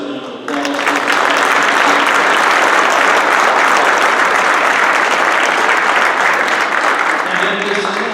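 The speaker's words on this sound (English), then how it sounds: "let's have a round of applause." An audience at an annual meeting breaks into steady, loud applause for scholarship students, sustained for several seconds and then fading, with a voice briefly at the end.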